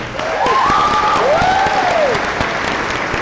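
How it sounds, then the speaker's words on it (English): Applause for a school yearbook team at a 2018 convocation ceremony, a large crowd clapping steadily and loudly throughout, with some cheering and whistles rising over the dense hand claps. "you guys can all give a little round of applause for our yearbook"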